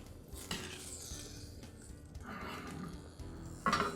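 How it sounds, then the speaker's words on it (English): A spoon scrapes and clinks against a cooking pot while cucumbers are stirred, a few soft metallic knocks and scrapes close by, ending in a sharper clatter. "I'm going to give it a stir."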